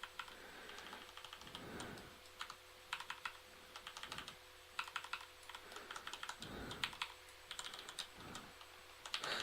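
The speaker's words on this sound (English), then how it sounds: "The clicking you can probably hear in the background is my keyboard." Steady, fast keyboard typing with soft clicks clustering in bursts, close and fairly quiet against a faint constant hum.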